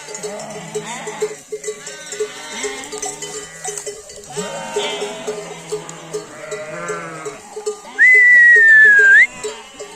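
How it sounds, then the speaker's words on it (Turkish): Sheep and lambs bleat repeatedly in a chorus, with overlapping calls near and far, joined briefly by a clear whistle-like tone toward the end. "Kuzular da içinde olduğu için sürekli bir bağırışma hakim."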